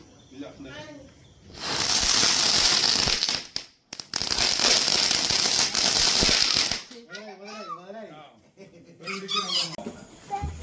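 Flash firecrackers go off in two long, loud bursts of dense crackling and hissing, with a short gap between them, and people talk before and after.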